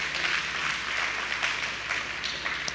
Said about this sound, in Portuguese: e aplauda o Senhor em nome de Jesus.